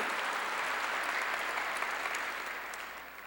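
A church congregation claps together in a large gymnasium during a sermon, a dense, steady wash of applause that holds loud throughout and tapers slightly at the end.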